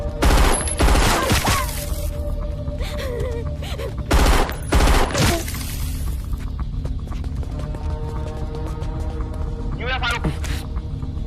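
Bursts of rapid gunfire break out in volleys, loud and close, with a couple of heavy blasts in the middle, mixed with shouting voices throughout.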